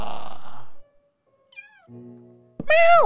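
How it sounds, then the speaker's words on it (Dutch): A Minecraft cat meows in the game, giving a short, high, rising-falling mew near the end after a few quieter game sounds, with a person talking briefly at the start. "Wij hebben een witte poes. Oh, zwarte poes."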